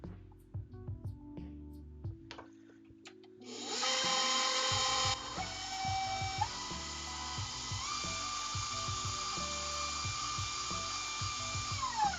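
An electric stand mixer whirs on low through gingersnap cookie dough, a steady motorized hum with a brief louder, higher-pitched stretch early on and occasional clanks of the beater against the bowl.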